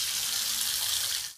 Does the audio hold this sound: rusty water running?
yes